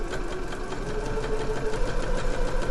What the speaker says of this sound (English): So I'm just stitching along a line just under 1 centimetre.